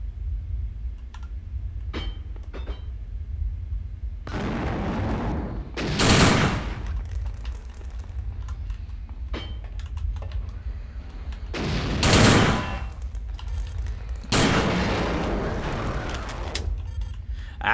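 A newly acquired pistol in the video game System Shock 2 fires in several loud bursts, with quieter stretches of low game ambience between the shots.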